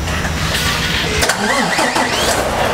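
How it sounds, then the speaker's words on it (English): An over-the-road truck engine starting while its batteries carry a 120 amp test load, the starter cranking briefly before the engine catches into a loud, rough mid-pitched running rumble close by. "And now we're going to start the engine"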